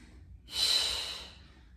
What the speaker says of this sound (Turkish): Güçlü nefes ver.